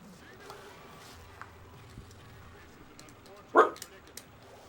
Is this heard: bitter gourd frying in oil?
no